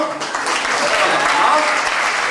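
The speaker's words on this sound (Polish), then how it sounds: "brawa dla pana" A short burst of clapping from a cabaret audience, dense and steady, with a voice faintly mixed in.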